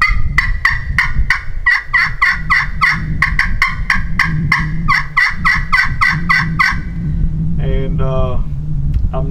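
A loud, rapid series of sharp turkey yelps and clucks from a crystal-over-slate friction call, close and insistent, ending in a few softer purring notes.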